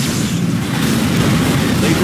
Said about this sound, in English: Particle cannon activated.